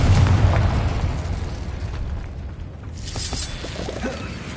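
A Confringo spell explodes in Hogwarts Legacy, a deep booming burst at the start that rumbles and fades, followed by fainter crackling debris and a softer pop later.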